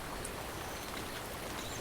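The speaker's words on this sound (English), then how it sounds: "We're on boat, and it's raining." Steady rain patters onto open water around a boat in a VR game, a dense even hiss of droplets that continues without a break, moderately loud and close.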